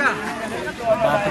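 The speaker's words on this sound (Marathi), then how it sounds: "बघा किती गर्दी आहे" Crowd chatter fills Mana village near Badrinath, a close, steady babble of many voices in a busy street.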